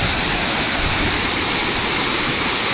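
The Sawdav waterfall roars as a loud, steady broadband rush of falling water, continuous and close with no talk over it.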